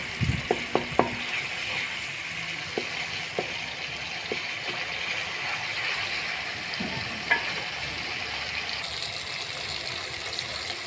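Tomatoes fry in a pan of dal chana with a steady, close sizzle, broken by a few sharp clicks of stirring near the start.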